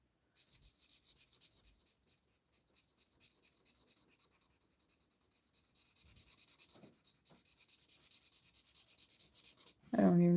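Colored pencil shading on paper, a soft, steady rhythmic scratching of repeated back-and-forth strokes close by, pausing briefly midway, before a louder burst of sound at the end.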